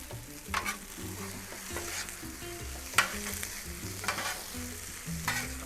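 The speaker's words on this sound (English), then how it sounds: "Let me get our butter melted." Butter sizzles in a hot pan while shrimp fried rice is being made, a steady close frying hiss broken by a few sharp scraping stirs of a utensil against the pan.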